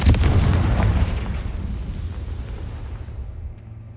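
A Confringo fire spell bursting in Hogwarts Legacy: one heavy booming explosion at the start, its deep rumble rolling and fading away over the next few seconds.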